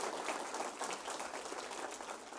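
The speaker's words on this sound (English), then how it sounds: "Feel free to applaud." Audience at a presentation applauding a reporter's introduction: a brief burst of continuous, dense clapping, fairly even in loudness from start to finish, with no talk over it.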